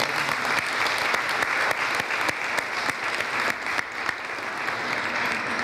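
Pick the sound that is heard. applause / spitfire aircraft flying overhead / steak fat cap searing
applause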